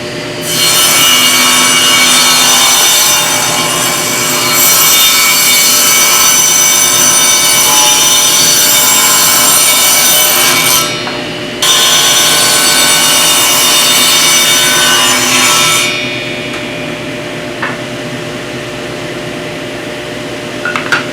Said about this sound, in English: after just a couple of passes on the table saw, there we go